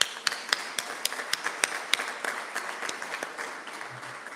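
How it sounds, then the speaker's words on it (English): Scattered clapping rises at a Sikh achievers award ceremony, sparse individual claps ringing out over a soft background patter, fairly faint and with distinct sharp hits rather than a full roar. "A huge round of applause and thanks to all for their contributions"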